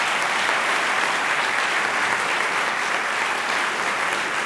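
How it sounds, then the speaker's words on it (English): Steady, full round of applause from a debate audience, even and unbroken, a thick wash of many hands clapping. "may I invite one more round of applause for Robert Rosencrantz for bringing this to us"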